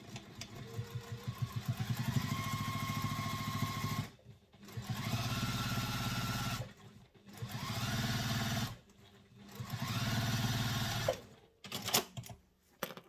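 A sewing machine top stitching a handbag runs in three long steady bursts with short pauses between, a close, even mechanical whir and rapid needle clatter.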